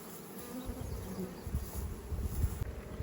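Honey bees hum in four-way nuc boxes during a summer nectar flow, giving a steady low buzz under faint background noise.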